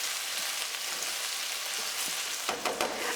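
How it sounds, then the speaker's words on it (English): Tomatoes and courgettes sauté in a large pan over a gas flame, giving a steady bright sizzle with soft stirring clatter near the end. "so that we can saute off the courgette"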